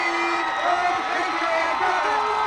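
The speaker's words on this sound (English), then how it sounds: "Listen to the crowd." A crowd at a high school football game between Lithia Springs and Paulding County cheers and whoops at the end of the first half, a broad roar with shouts rising from the stands, loud and continuous.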